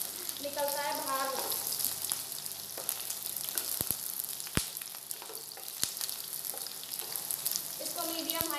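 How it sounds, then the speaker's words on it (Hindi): Okra (bhindi) sizzles steadily in oil over a medium-high flame, with a constant close hiss and occasional sharp clicks of a spatula scraping the pan. "इसको मीडियम हाई फ्लेम पे फ्राई करेंगे भिंडी को"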